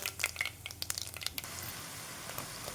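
Cumin seeds sizzle in two spoonfuls of hot oil in a pan, a soft crackling fizz with scattered sharp pops, busier at first and settling into a steady hiss.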